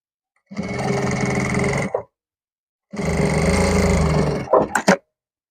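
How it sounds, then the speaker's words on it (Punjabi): An electric sewing machine stitching a pocket on a kurta, running in two steady buzzing bursts separated by a pause, then a few short stops and starts, close up with no speech. "ਪਹਿਲਾਂ ਆਪਾਂ ਇਹਦੀ ਸਿਲਾਈ ਲਗਾ ਦਾਂਗੇ"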